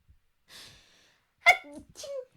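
A single sharp sneeze, preceded by a short breathy inhale and followed by a brief voiced exhale, close and fairly loud.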